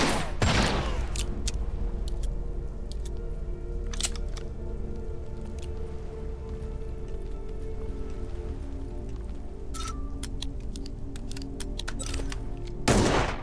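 Rapid gunfire from an endless-ammo weapon in a video game, a steady stream of crackling shots under sharp, loud individual cracks, with no one talking.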